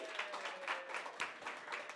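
Audience applause at a morning gathering, a faint, steady patter of many hands clapping from a distance.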